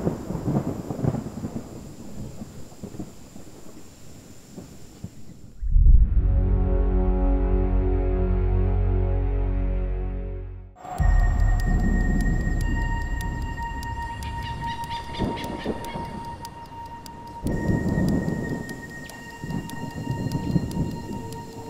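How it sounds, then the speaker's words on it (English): A thunderstorm rolls into a forest: a deep, sustained rumble of thunder swells loudly for several seconds and then breaks off, with forest ambience and bird calls on either side. "And a storm is on the way."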